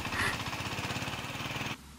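A voice imitates a shallow irrigation water pump engine, producing a fast, steady chugging pulse that runs loudly and evenly for nearly two seconds before stopping abruptly.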